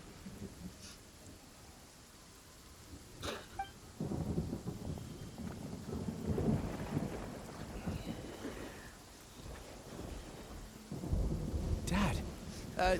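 Rain and rolling thunder in the Genshin Impact video game, a steady rain hiss under two sharp cracks and a long low rumble building near the end, with game music and voices faintly underneath.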